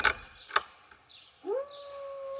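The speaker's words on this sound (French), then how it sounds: "c'est un chien dans une autre propriété" A dog on a neighbouring property lets out a single rising, drawn-out howl, faint and distant in a quiet night, preceded by a few soft clicks.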